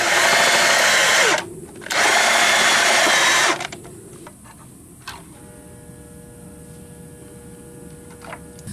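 Old bolts beneath T-bolts get backed out with a power tool, two loud close bursts of whirring drill motor with a short pause between, then quieter clicks, a clunk and a low lingering hum.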